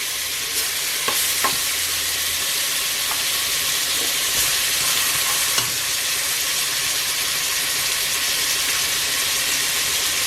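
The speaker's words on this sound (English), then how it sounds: "we got a little butter and oil in here. And like I said earlier, we're just gonna start browning that meat." Oxtail sears in a pan of butter and oil with a steady, dense sizzle and faint scraping stirs, close and continuous with no talking.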